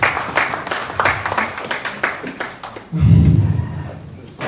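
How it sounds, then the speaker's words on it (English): An audience at a South-South regional journalists' media retreat and awards event claps for a few seconds. A denser burst swells toward the end, close and fairly loud. "A round of applause, please."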